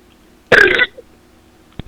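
One loud, raspy burp lasting about a third of a second bursts close to the microphone during a Korean live-streamed talk show, followed by quiet.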